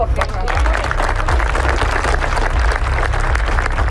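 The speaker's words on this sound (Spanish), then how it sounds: "así que den un aplauso" An audience applauds at a gathering after being invited to clap, producing a dense, steady wash of clapping that fills the whole stretch with some crowd noise mixed in.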